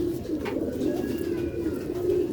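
Sialkoti breeder pigeons coo in soft, low, rolling calls. The calls go on continuously at moderate distance, with faint chirps and no talk.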